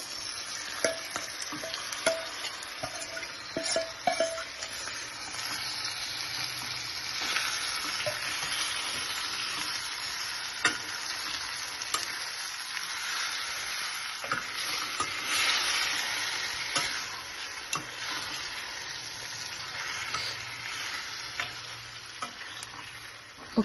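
Marinated chicken frying with ginger garlic paste in a pan, with a steady hiss of sizzling throughout and scattered clicks and scrapes of stirring, close up and with no talk.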